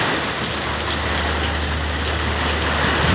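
Steady rain falls during a storm in hot weather, a dense, close hiss of drops that continues without a break, with a low rumble underneath.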